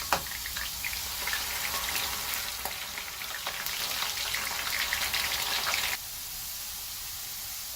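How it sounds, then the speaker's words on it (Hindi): Spiral-cut potato tornadoes fry in hot oil with a dense, steady sizzle and crackle close by, dropping to a quieter bubbling hiss toward the end, with no talk. "अब इसको फ्राई होने के लिए इसी तरह से छोड़ दूँगी।"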